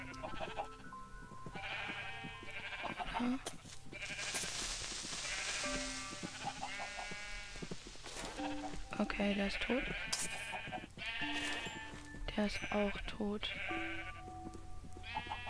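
Many sheep gathered in a pit in the Minecraft video game bleat repeatedly in overlapping calls, close and clear, under someone talking in German throughout.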